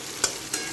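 Onions frying in a pan for an egg tarka give a steady sizzling hiss, with two brief scraping stirs close by and no talk.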